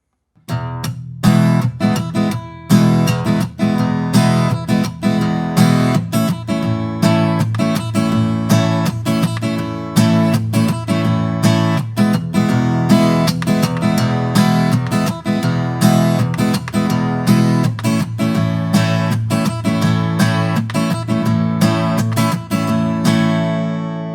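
An acoustic guitar strums the chords of a song in a steady rhythm, played alone, close and clear, with chord changes throughout.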